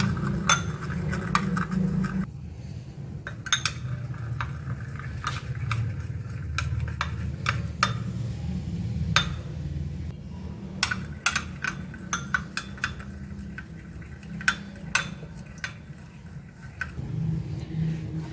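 Spoon clinking and scraping against bowls while stirring food colouring into rice, a light irregular ticking over a low steady hum, close and fairly soft, no talking.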